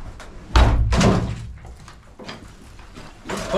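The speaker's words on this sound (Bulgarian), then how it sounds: "Там има врата." A door bangs shut with a loud, close thump inside a building, followed by further knocks and rustling movement.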